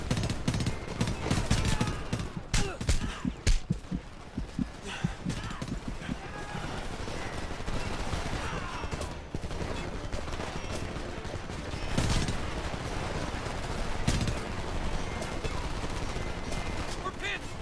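Bursts of gunfire from the shooter game Homefront, heavy machine gun rattles and single shots, crackle loud and dense through a chaotic battle din, with a voice speaking over the shooting.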